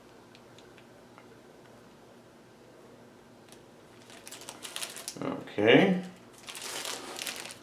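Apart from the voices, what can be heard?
unwrapping and untying a package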